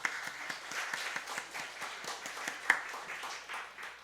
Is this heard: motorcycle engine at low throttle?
no